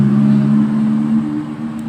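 A Honda Beat ESP scooter engine is throttled up, giving a close, loud, steady droning hum held at a raised pitch and easing slightly near the end, with no voices.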